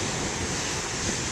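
Large ocean waves break on a beach in a steady, dense wash of surf noise with no distinct individual crashes, a continuous roar heard alone.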